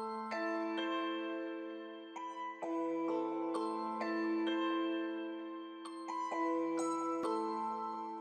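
Synth melody from the Omnisphere plugin in FL Studio for a reggaeton-style beat, sustained bright tones changing every second or so, steady and moderately loud with no talking.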